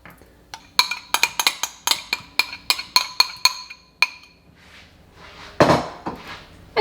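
Wet and dry pineapple tart dough ingredients mixed quickly and roughly in a bowl, a utensil knocking sharply against the bowl in a rapid series of close clinks, then a pause and a brief scraping swirl.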